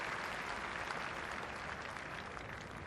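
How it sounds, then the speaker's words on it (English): Crowd applause at a Yorkshire versus Lancashire one-day cricket match, greeting captain Gary Ballance; a distant, steady patter of clapping spread across the ground, continuous and without talk. "a generous round of applause for him"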